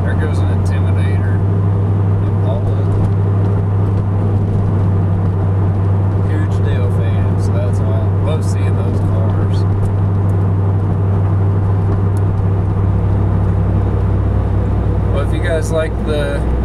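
A classic car's engine hums steadily nearby at a car meet, its low drone filling the scene as the vehicle drives past.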